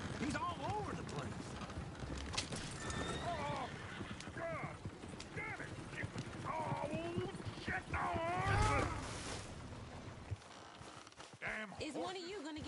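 Horse-drawn coach galloping in Red Dead Redemption 2, hooves clip-clopping steadily with occasional whinnies, moderately near, mixed with people talking and other game sounds throughout.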